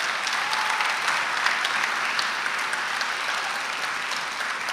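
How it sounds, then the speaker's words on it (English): Audience applause at a college commencement ceremony, a dense, steady burst of clapping from a large crowd, sustained and even throughout. "I think we need a round of applause for just that."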